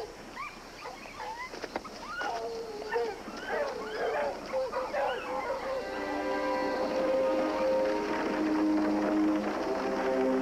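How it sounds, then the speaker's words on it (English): Several dogs bark at a stranger, with excited yelps and barks giving way to drawn-out, wavering howls, fairly close and continuous throughout. "Dogs don't bark like that unless it's a stranger."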